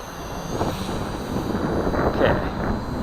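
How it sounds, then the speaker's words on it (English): Strong wind buffets the microphone at an outdoor test of a K130 RC helicopter, a steady, moderately loud rushing noise with gusts swelling and fading throughout. "And of course it's really windy."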